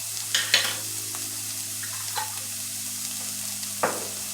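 Rajas, strips of roasted peppers, saute in a pan over medium heat, giving a gentle continuous sizzle with a few scraping stirs and light clinks.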